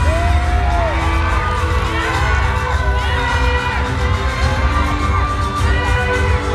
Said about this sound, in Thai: ผมอยากเห็นเสียงเชียร์แบบเนี้ย